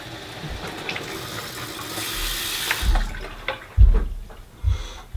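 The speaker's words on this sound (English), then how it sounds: "I just run water through it." Water runs and splashes through a fish tank filter tube being rinsed, with a steady flow and a few louder gushes and clunks near the end.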